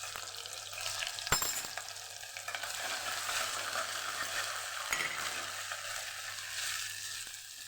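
Cumin seeds and ginger-chili paste fry in hot oil for a Kathiyawadi spinach-potato curry, a steady close sizzle broken by a couple of sharp clinks from stirring, with no voices.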